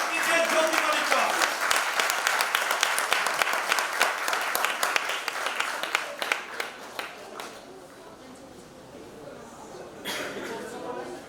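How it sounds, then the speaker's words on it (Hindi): An audience claps loudly at the Udaan Idol Little Champs grand finale in Mumbai, welcoming Jyoti Malik. The dense applause lasts several seconds, then fades and gives way to talk. "जोरदार तालियों से स्वागत कीजिए ज्योति मलिक का"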